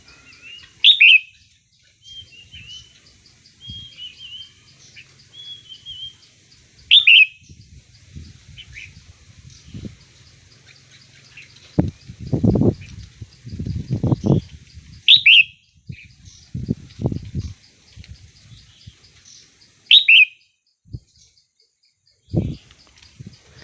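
A wild red-whiskered bulbul outdoors gives short, bright chirps every few seconds, with soft rustling and low thumps close by between the calls.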